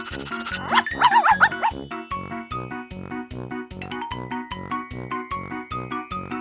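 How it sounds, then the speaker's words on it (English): Repeated yapping dog barks in a steady rhythm over bright, bouncy music, with a burst of higher excited yips near the start. "Soon all the dogs were barking"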